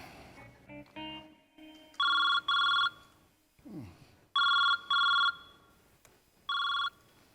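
A telephone rings close and clear in paired electronic bursts, three doubled rings separated by short pauses, with faint background sounds in between.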